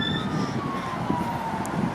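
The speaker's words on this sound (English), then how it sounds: "It was probably just an ambulance as usual." An emergency siren wails on a Toronto street in Scarborough's Wexford neighbourhood along Lawrence Avenue East, its steady tone gliding slowly downward as it passes, mixed with continuous traffic rumble and street noise.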